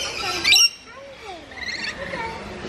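A bird at a zoo gives a sharp, loud squawking call near the start, followed by fainter chirps, with people talking nearby.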